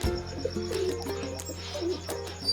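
Pigeons sit inside a loft of top-quality birds in a backyard coop setup, giving soft, continuous cooing and low murmuring with occasional brief chirps at close range, under a steady background hum.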